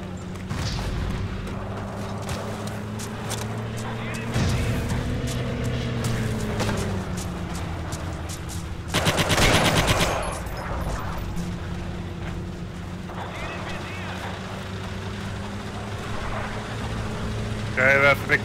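Rumbling tank engines and scattered gunfire with heavy booms during a counter-attack in the video game Forgotten Hope 2, a steady mechanical drone broken by one loud burst of explosions midway and occasional distant shots.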